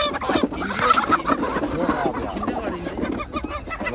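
Chickens and roosters at a poultry market clucking and calling in a busy, overlapping chorus close by, with people talking among them.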